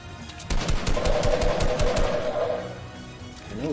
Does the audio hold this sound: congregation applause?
no